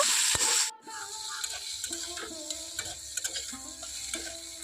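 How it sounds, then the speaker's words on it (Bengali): Potato pieces with salt and turmeric frying in a pan, a loud burst of hissing as they go in, then a steadier sizzle with scattered stirring clinks and light taps, close and unvoiced. "এটাকেও আমি এখন লাল লাল করে ভেজে নেব"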